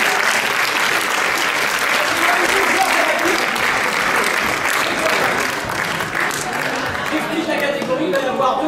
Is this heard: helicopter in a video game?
no